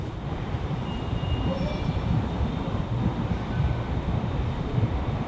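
A train passes at a steady distance on a city street, giving a continuous low rumble and rattle with a faint high squeal, fairly quiet and unbroken throughout, with no speech over it.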